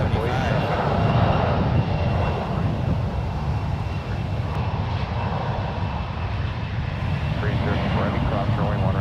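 A jet airliner takes off at San Francisco International Airport, a loud, continuous engine roar that holds steady through the whole stretch, with voices talking over it.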